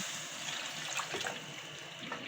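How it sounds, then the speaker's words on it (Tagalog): Soft, steady splashing of water being poured into a pot, faint and continuous with no talk. "lalagyan natin siya ngayon ng tubig"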